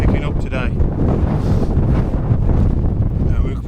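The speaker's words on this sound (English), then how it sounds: "That wind is really" Strong gusty wind buffets the microphone on an open fell hillside in the Coniston area on a hot day, a loud continuous roar with faint brief voice sounds underneath.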